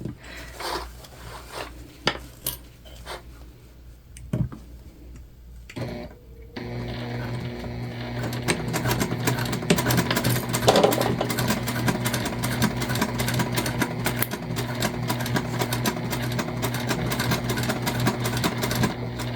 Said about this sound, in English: We're gonna stitch all the way down to that one chalk mark